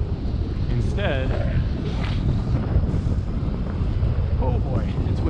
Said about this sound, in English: oh boy, it's windy